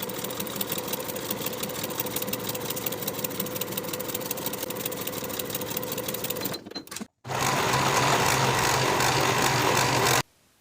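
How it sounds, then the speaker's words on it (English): Close, steady sewing machine running as pocket pieces for barrel pants are stitched together, a continuous rapid whir for about seven seconds, a brief pause, then another burst that stops abruptly. "Sew these pieces together with a 1/2 inch seam allowance and finish the raw edges together"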